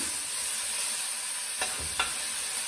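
Bean sprouts and peppers for Singapore noodles stir-fry in a hot pan with a constant loud sizzle, broken by two short scraping knocks of the utensil close to the end.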